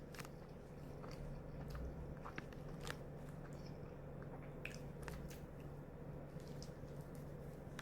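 Someone bites into and chews a 7-Eleven onigiri up close, with soft crunchy bites and squishy chewing sounds over a faint steady background hum.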